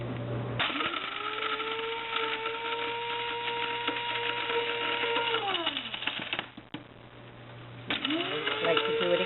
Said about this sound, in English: I'm putting them in my grinder so I can make tomato powder.